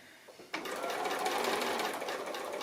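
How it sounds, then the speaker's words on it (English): Close sewing machine stitching plain seams in fabric for an otedama bag, starting after a brief quiet handling moment and then running continuously at an even whir with a fine rapid rhythm. "So just regular sewing, nothing difficult about this part."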